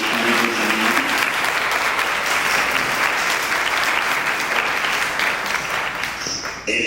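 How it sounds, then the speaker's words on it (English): An audience at a champions brunch event claps for a team in sustained, loud applause from many people, fairly close and even throughout before tapering off at the end. "can we just at least give one round of applause to my team who has done an incredible job?"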